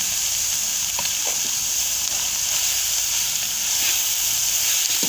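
Grated carrots fry in a pan, giving a steady loud hiss and sizzle, with a few faint scraping stirs of a spoon now and then, and no talk.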